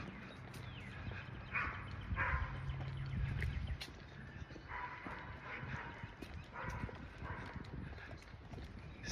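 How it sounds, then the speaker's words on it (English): Dogs bark and yip at a distance outdoors at sunset, with scattered birdsong and rustling, shuffling movement close by, all fairly faint. "Still hear the birds, the dogs."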